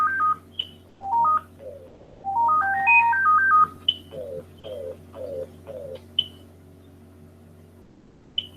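A phone nearby plays a melodic electronic ringtone in stepped rising and falling runs of tones, with short beeps and chirps between them. It sounds fairly clear over a low steady hum.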